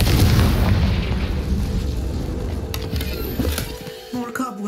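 Confringo fire-blast spell explosion in the video game Hogwarts Legacy, a loud rumbling boom that fills the first seconds and slowly decays into debris clatter.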